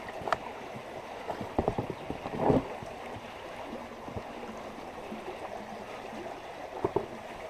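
River flowing at Wolf Creek, a soft continuous rush of water beneath scattered close knocks and splashy movement noises, with light wind on the microphone.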